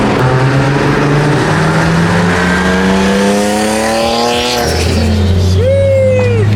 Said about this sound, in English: That turbo noise.